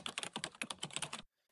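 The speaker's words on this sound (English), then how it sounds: "this is the computer keyboard sound" Rapid typing on a computer keyboard, a quick run of a dozen or so crisp, close clicks that stops abruptly, leaving near silence.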